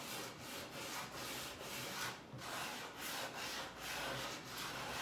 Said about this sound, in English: Just drag that sander or a little piece of sandpaper, even if you have, just drag it right around the circle.